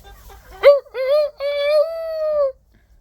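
A rooster gives a single close, loud crow that breaks into a few rising and falling notes and ends on one long held note, with no other sound around it.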